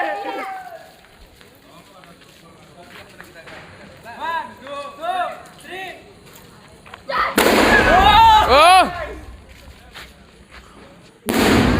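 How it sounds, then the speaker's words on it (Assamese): Firecracker set off at a wedding: a loud, sharp burst that comes after a stretch of people talking and shouting, followed by ringing noise and further chatter. "এতিয়া এটা বোমা ফুটাব আপোনালোকে চাওক।"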